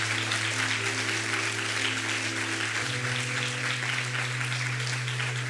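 A church congregation at a celebration service applauds steadily, a loud dense wash of clapping that fills the room, with a sustained tone from a keyboard or organ underneath throughout.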